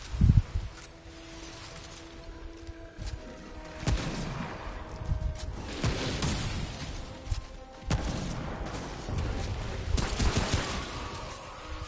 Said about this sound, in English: Sniper rifle hits pretty hard.